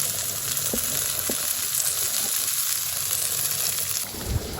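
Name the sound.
mutton curry boiling in a pot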